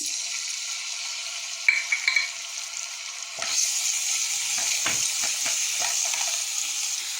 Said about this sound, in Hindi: पैन में हम डालेंगे थोड़ा सा ऑयल गर्म हो रहा है। अब हम इसमें डालेंगे अनियन।